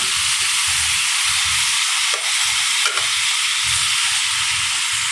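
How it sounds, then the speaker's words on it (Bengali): Tomatoes frying in hot oil in a wok for a tomato mash, a steady close sizzle and hiss with soft stirring scrapes, two brief pauses, no talking. "কড়াইতে তেল দিয়েছি, এখন ভেজে ভর্তা বানাবো।"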